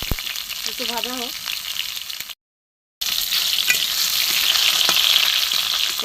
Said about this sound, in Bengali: পটলগুলো একটু ভালো করে ভেজে নেব